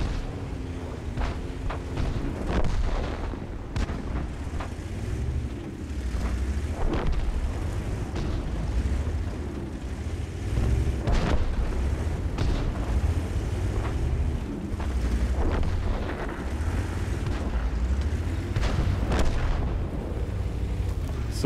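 Repeated heavy booms of a Lorraine 40 T tank cannon in World of Tanks, several sharp blasts spaced across a steady rumbling background of engine and wind-like noise, with no voices.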